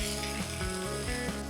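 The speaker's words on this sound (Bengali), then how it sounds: "এবার দেখুন ভালোভাবে ভেজে নিচ্ছি, কপিগুলো একটু লালচে লালচে করে ভাজবো।" Cauliflower florets fry in hot oil in a pan, giving a brief, continuous close sizzle with no talking.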